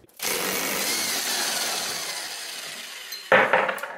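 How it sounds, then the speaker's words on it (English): A large Harbor Freight impact gun breaks loose a 17 mm nut during CVT service on a Royal Alloy GT150 scooter: a loud, continuous whirring hammer for about three seconds, then a few metallic clinks. "Attach that to our big old Harbor Freight impact gun."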